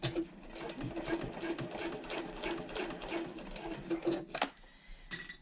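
Sewing machine back stitching at the start of a half-inch seam on handbag panels, a quiet rapid steady whir of needle strokes, then a pause and a couple of clicks.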